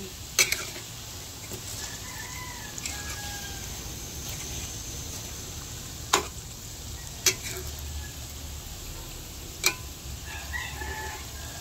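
Banana cue, bananas with a little sugar, sizzles steadily in a frying pan while being stirred, with a few sharp utensil clicks against the pan and faint rooster calls far off in the background.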